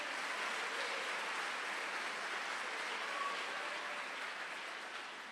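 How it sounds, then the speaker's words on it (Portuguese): A church congregation applauds steadily, a dense wash of clapping that holds at an even level for several seconds before easing slightly at the end, with no voices standing out. "Pode aplaudir e glorificar o Senhor."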